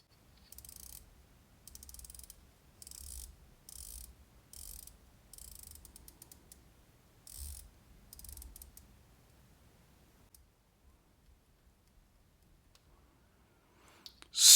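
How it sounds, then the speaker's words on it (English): A 120-click watch bezel turned in bursts, producing rapid runs of crisp, fine ratcheting clicks close up, pausing between turns, then quiet with a louder knock at the very end. "each click of the 120 click bezel is sharply defined"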